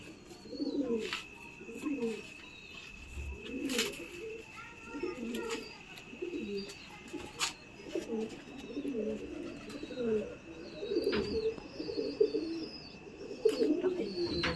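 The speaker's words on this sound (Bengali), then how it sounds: "এবার আমি কিছু কালো পায়রা দেখাবো" Pigeons, including black ones, coo repeatedly in low, rolling phrases that follow one another almost without pause, with a few higher chirps and clicks scattered through.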